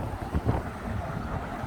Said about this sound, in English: it's so windy and cold for some reason